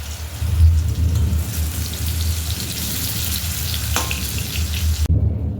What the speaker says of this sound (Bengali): প্রথমে আমি আলুগুলোকে একটু অল্প করে হলুদ দিয়ে লাল লাল করে ভেজে তুলে নেব।